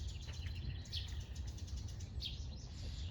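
Red-breasted robins, a pair nesting in a home garden near grapevines, give brief high chirps and tweets at a distance over a low background hum.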